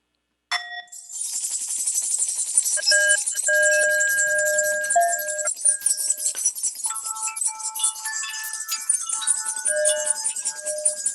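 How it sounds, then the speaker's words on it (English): Several small handbells and chimes ring together during an online church service, bright metallic tones overlapping and tinkling continuously after a sudden start. "ring those bells"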